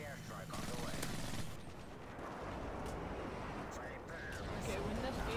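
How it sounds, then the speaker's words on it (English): Heavy gunfire and explosions from a friendly airstrike rumble through an online match of the video game Call of Duty Modern Warfare 3, sustained and loud throughout, with muffled voice underneath. "Friendly airstrike on the way."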